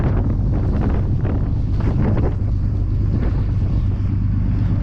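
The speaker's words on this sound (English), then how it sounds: "60 miles per hour wind gust" Strong, steady blizzard wind at about 30 degrees with 60 mph gusts, roaring and buffeting the microphone, a loud continuous rumble with gusty surges throughout.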